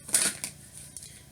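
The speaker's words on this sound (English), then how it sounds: "let's get some tarot out on these cards, Gemini" Tarot cards laid out by hand make a few soft, brief papery slaps and slides, close and faint, with a quiet hum underneath.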